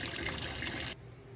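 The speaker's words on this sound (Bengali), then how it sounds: "তো সর্বপ্রথম মাংসটা আমি ধুয়ে নিচ্ছি।" Camel meat being rinsed under running water, a steady close splash and trickle that cuts off abruptly partway, leaving quiet room tone.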